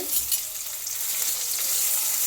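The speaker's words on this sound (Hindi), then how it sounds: "ऑयल गरम होने पे हम इसमें ये जो कैबेज है हम इसको भूनेंगे।" Cabbage frying in hot oil in a pan for a homemade band gobhi sabzi, a steady bright sizzle with continuous crackle, close and even throughout.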